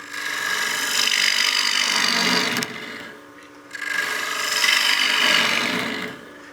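Woodturning gouge cutting a wooden coin box spinning on a lathe, two sustained scraping, hissing cuts of about two and a half seconds each, separated by a short pause, close and fairly loud.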